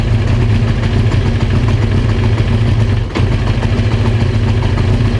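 A Honda CBR 900 Fireblade motorcycle engine runs at a rough, uneven idle while starved of fuel, a steady close throb with pulsing low rumble and one brief dip partway through.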